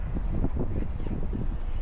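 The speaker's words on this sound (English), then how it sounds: "Wind's picking up." Wind blowing outdoors at an RC car bash, a steady rough rumbling buffet across the microphone, moderately loud and alone for a brief stretch.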